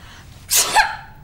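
A single sharp sneeze from someone with a chill caught from a night at the pool, a loud close burst with a short breathy lead-in.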